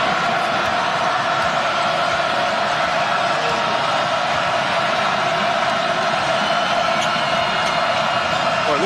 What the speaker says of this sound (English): Well, listen to this crowd.